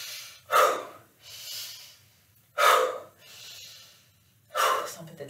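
Deep breaths during a yoga breathing exercise: three strong inhales each followed by a softer, longer exhale, close and even in rhythm.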